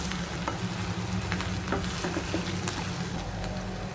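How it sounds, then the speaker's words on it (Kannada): Brinjal sautés in hot oil with curry leaves, a steady close sizzle broken by scraping stirs and small pops throughout. "ಬದನೆಕಾಯಿ ಹಾಕಿದ್ದೀನಿ ಈಗ ಸ್ವಲ್ಪ ಬಾಡಿಸ್ತೇವೆ"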